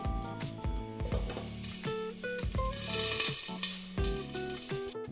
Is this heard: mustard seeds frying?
yes